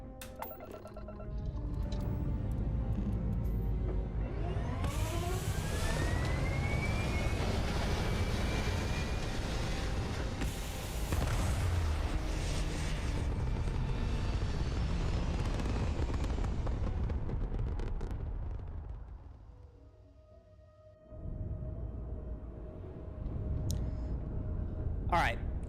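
Spaceship lifting off in Starfield from the cockpit, a loud, sustained engine roar with rising whines that swells over about twenty seconds, cuts out briefly, then resumes as a steady hum, with a person talking over it.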